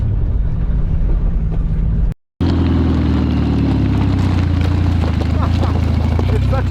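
A turbo Volvo engine roars loudly and close as the car drives fast off a jump, with a brief dropout before a throaty, rumbling drone resumes.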